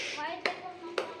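Two sharp hand claps, about half a second apart, cut through a person's ongoing talk at a boisterous gathering.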